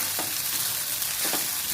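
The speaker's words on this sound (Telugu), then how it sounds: "ఆయిల్లో కలుపుకోవాలి" Sago pearls and ground peanut powder stirred through hot oil with cumin in a pan for a fasting dish, giving a steady close sizzle with two brief scraping stirs.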